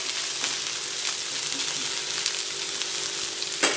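Onions frying in a pan for upma, a steady close sizzle and crackle running without pause, with a few faint clicks and one louder knock near the end.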